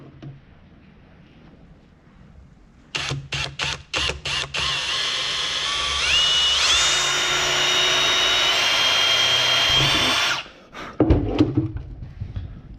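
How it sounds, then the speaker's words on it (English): A power drill with a small metal bit bores a pilot hole in an OEM Subaru Crosstrek reflector, a steady whirring run of several seconds between short bursts and clunks, close and loud. "Drill yourself a pilot hole. So I got a little metal bit here."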